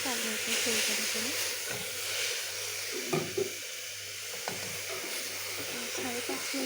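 Grated carrots sizzle and hiss as they are stirred in a hot pan over high flame, with a steady frying crackle and occasional scraping clinks, a voice talking faintly alongside.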